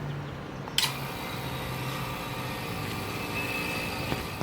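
A steady mechanical hum drones continuously at low volume, with a brief click near the start, from a vacuum pump evacuating a car air-conditioning system.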